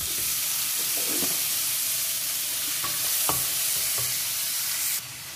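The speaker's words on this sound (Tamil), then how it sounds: "இந்த தக்காளியும் நல்லா வதக்கிக்கலாம்." Tomatoes and onions sauté in a hot pan, a steady broadband sizzle with several sharp spatula scrapes and stirring knocks, close and continuous with no talking.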